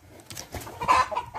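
Soft, close clucking from Fayoumi chickens on a farm in Morocco, a few short murmuring notes rising slightly in a quiet setting.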